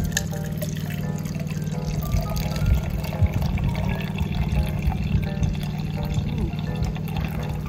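Water pouring and trickling out of a cup of soaked horse bedding during an absorbency test, a steady continuous splash over a low background hum.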